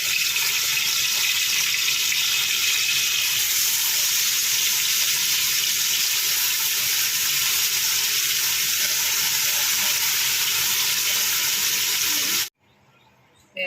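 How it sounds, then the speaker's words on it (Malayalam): Karimeen pearl spot fish fries in a little oil in a hot cheenachatti pan with a loud, steady sizzle that runs almost unbroken. It cuts out abruptly near the end. "ചൂടായ ചീനച്ചട്ടിയിലേക്ക് കുറച്ച് എണ്ണ ഒഴിക്കുക നമ്മൾ അധികം ഫ്രൈ ആക്കണ്ട ചെറുതായിട്ടൊരു ശാല ഫ്രൈ ചെയ്തെടുത്താൽ മതി"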